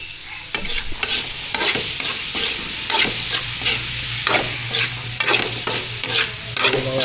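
Sautéed black beans with tomato being stirred in a pan: steady close sizzling frying under repeated scraping strokes of a spatula, with a low hum in the background.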